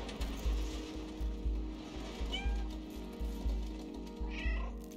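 Cat meows from the video game Stray, a cyberpunk adventure, ring out twice, the second higher and brighter, over a steady pulsing game soundtrack with a thudding low beat.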